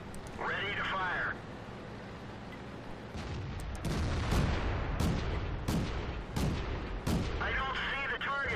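Heavy booming cannon fire from a tank in a video game, several loud reports with spiky cracks spaced across the middle of the clip, between brief chirping electronic tones at the start and end.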